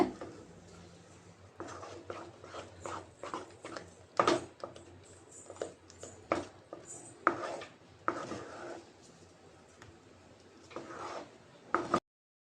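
A ladle stirs and mashes thick coconut milk and wheat flour dough in a pan, giving repeated irregular knocks and scrapes against the metal, fairly close and moderately loud, with no talk.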